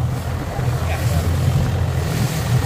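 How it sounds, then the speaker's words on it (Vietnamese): Big waves at open sea, with rumbling surf and buffeting wind roaring steadily against the microphone from a boat on the water, and no voice on top. "Rồi sóng quá trời luôn rồi."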